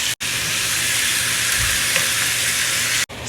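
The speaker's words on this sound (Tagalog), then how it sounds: "add our chicken and saute for 20 minutes" Chicken sautés with garlic and ginger in a hot pan, a loud, steady, close hiss of sizzling that cuts off briefly at the start and end, with no voices.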